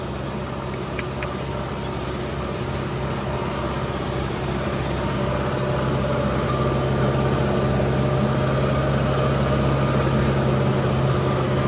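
A tractor engine idles and runs steadily in a field during ploughing of a farm plot, a constant low droning rumble with a faint hum, unbroken throughout, fairly close, with no talk over it.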